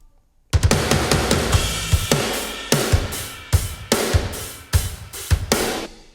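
Full heavy rock drum kit playing with all tracks up: punchy kick and snare hits under constant cymbal wash in a driving pattern, starting after a brief pause.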